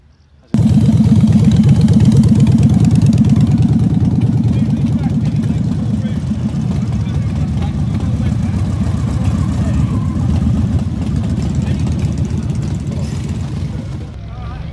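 Motorbike engines run at an outdoor car, truck and bike show, a loud steady low rumble that starts abruptly and holds for over ten seconds, easing slightly toward the end.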